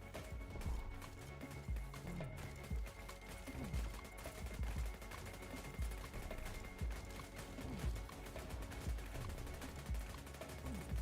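Gatling tower in the tower-defense game Rift Riff firing steadily, a dense, continuous stream of rapid gunfire bursts with mechanical clatter and impacts layered over busy game sounds.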